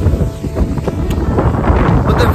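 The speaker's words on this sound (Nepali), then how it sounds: "यस्तो हावा चलिरहेछ यहाँ" Strong wind buffets the microphone beside a mountain waterfall on the road to Rara, making a loud, continuous roaring rumble with gusty swells and no pauses.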